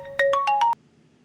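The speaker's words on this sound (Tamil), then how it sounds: "ஃபோன் அடிக்குது." A phone ringtone chimes in a quick rising run of five bright electronic tones, clear and close, then cuts off into quiet.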